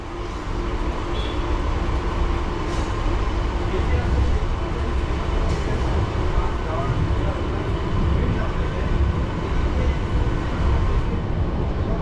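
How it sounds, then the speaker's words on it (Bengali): A passenger train pulls out again on the new Krishnanagar to Amghata line, giving a loud, steady rolling rumble throughout with no break. "আবার ছেড়ে দিল আমাদের ট্রেন"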